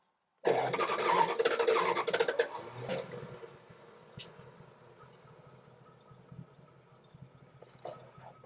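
A Jensen Interceptor MK1 engine with auto choke cranks and catches with a loud burst, then settles into a low, uneven idle with a brief blip near the end.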